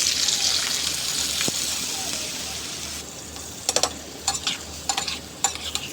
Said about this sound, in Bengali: আমি ওই তেলেই চাউলগুলোকে সুন্দর করে ভেজে নিব।